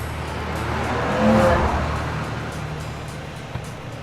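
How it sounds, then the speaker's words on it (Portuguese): A truck on a remote Patagonian road sounds a single sustained horn blast near the middle, rising over a steady engine and road rumble, with no voices. "e foi recompensado com uma alegre buzinada"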